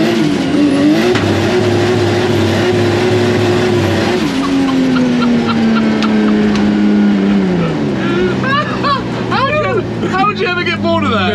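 A VW Beetle fitted with a Nissan Skyline engine revs loud and close inside a tunnel, its pitch holding, then dropping as it eases off, with people talking and exclaiming over it.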